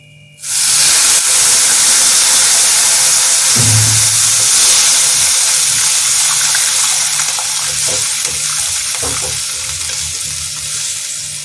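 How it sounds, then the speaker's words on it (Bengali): Boiled potatoes and carrots drop into hot spice paste in a pan, setting off a loud steady sizzle and hiss that carries on close by, with a brief stir and no voices. "এবার আমি এর মধ্যে আলু আর গাজর যেটা সিদ্ধ করে রেখেছিলাম ওটা এখানে দিয়ে দিচ্ছি।"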